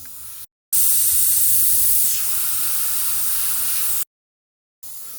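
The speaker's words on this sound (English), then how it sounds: "Notice I support the airbrush with two hands." Steady airbrush spray hissing loud and close for about three seconds, held with two hands while painting a spring crocus, with brief silent breaks before and after and another short burst at the end.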